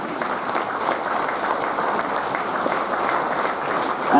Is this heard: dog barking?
no